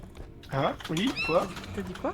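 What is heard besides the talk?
cat meowing in video game R.E.P.O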